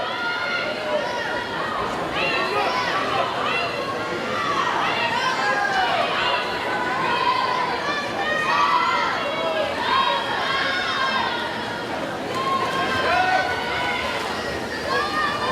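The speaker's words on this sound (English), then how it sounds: "Hear the crowd getting in on it as they do their breaststrokes here." A crowd cheers and shouts steadily at a swimming meet held during breaststroke races, a dense, continuous roar of voices throughout.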